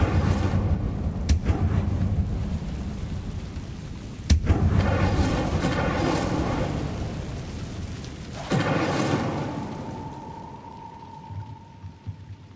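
The Incendio fire spell in Hogwarts Legacy throws out rumbling, whooshing bursts of game flame over a steady roaring wash, with a sharp crack near the start and another partway through.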